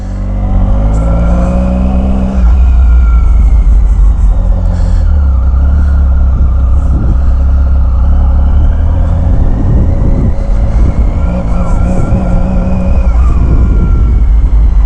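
A 2016 Triumph Speed Triple R motorcycle with only 112 miles fires up and idles with a loud, close engine rumble, then rises and falls through several revs before settling, with no talk over it.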